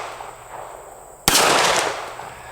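A Springfield SA-35 pistol shot fired at a 100-yard target outdoors, a single sharp distant report that bursts loudly and decays over about half a second above faint background noise.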